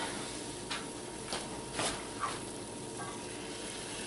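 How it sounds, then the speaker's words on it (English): A stick of butter melts in a pan as the base for a white sauce, giving a steady, close sizzle with a few soft clinks and stirring scrapes over the top. "You're going to take a stick of butter, get that in there melted."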